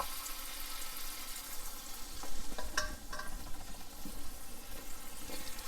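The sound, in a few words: fish patty frying in butter in a pan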